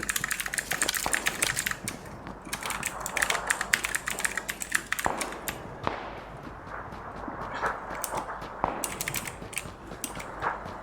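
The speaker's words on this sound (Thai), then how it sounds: "คีย์บอร์ดมันเป็นเสียงคลิกของสวิชมันไม่ใช่เสียงซาวในคอมพิวเตอร์มันไม่ใช่เสียงซอฟต์แวร์ มันเป็นเสียงในชีวิตจริง" Rapid, irregular clicking of mechanical keyboard switches, close and fairly loud, with bursts of fast keystrokes continuing throughout while PUBG Lite is played.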